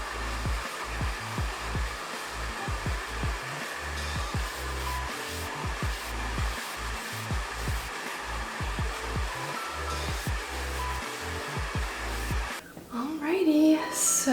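A hair dryer blows steadily while drying freshly balayaged hair, a continuous close whooshing hum with faint rustling that cuts off near the end.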